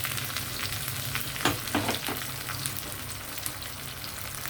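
Dried red chilies, curry leaves and coriander fry in hot oil for a tempering, giving a steady, close sizzle with a few sharper crackles and pops as they hit the pan.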